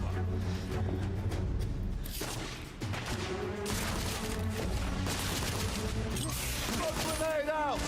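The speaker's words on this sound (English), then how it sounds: "Now I have the shotgun. It is not sawed off. It's a straight up long shot" A full-length shotgun fires in The Order: 1886 amid heavy battle noise, with loud repeated blasts and mechanical clatter running throughout while someone talks over the action.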